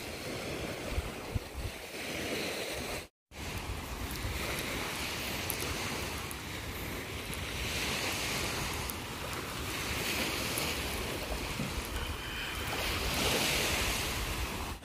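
Ocean waves roll in at a small sandbar on the west side of Kalanggaman Island, Leyte, a steady broadband wash of surf with wind buffeting the microphone, swelling and easing throughout with one brief cut.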